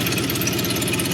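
A 1988 Honda VF750c Super Magna motorcycle with a custom exhaust idles steadily while not yet fully warm, giving a continuous, close, even rumble with a fast regular pulse and no voices.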